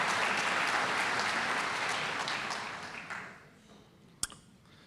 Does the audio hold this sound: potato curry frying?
no